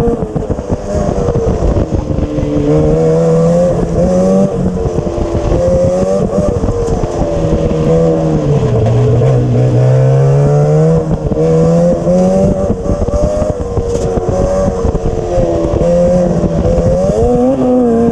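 Race car with sequential transmission and carbon fiber body on a test run, its engine roaring loud and continuous, pitch climbing and dipping through shifts with wind buffeting, no voices.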